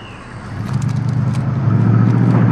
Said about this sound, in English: Vehicle coming in the main gate.